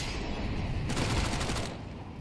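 Rapid automatic gunfire from a Mac-10 submachine gun in the Counter-Strike video game, a dense sustained burst about a second long amid continuous match noise.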